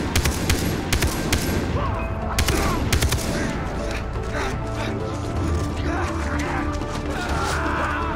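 Gunfire in the video game Far Cry 3: rapid bursts of shots and automatic fire in a loud, dense battle mix, with scattered crashes and impacts throughout.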